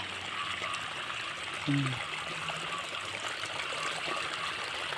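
Floodwater flows steadily past a spot where fishing lines are set in rural northeastern Thailand, a continuous rushing, trickling wash at moderate volume, broken once by a brief short tone near the middle.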